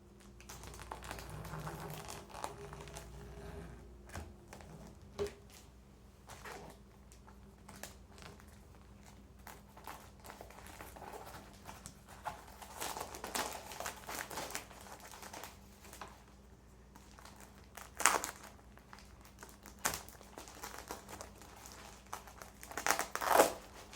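A 30-inch canvas shipping package from CanvasHQ is cut open and unwrapped up close, with soft crinkling of wrapping and scattered sharp clicks and snips that grow louder toward the end, otherwise quiet.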